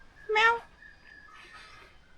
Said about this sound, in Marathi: हे बघा मांजर बघा काय करते